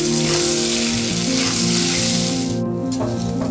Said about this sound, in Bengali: আলুর দমের আলু ভাজা হয়ে গেছে